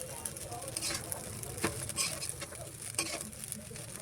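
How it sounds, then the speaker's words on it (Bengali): Noodles sizzle in a hot pan while a utensil stirs and scrapes, with soft clicks and bursts of crackling at irregular intervals. "আমার চাউমিন ভাজা হয়ে গেছে।"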